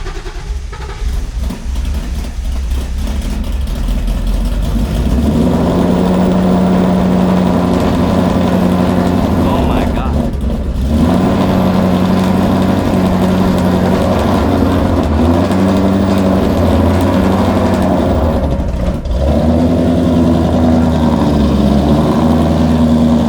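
A Ford Coyote 5.0 V8 fires up and settles into a loud, close, steady idle, with a few brief revs rising and falling over the rumble, no talking.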